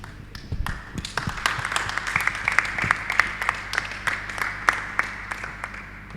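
A church congregation claps steadily in praise at a children's worship service, with dense applause running throughout and a low musical hum underneath.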